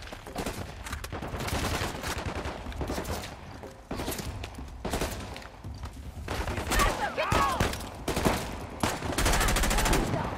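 Rapid bursts of gunfire ring out in Uncharted: The Lost Legacy, a sniper's shots mixed into a dense, sustained firefight that stays loud and busy from start to finish, with no talk over it.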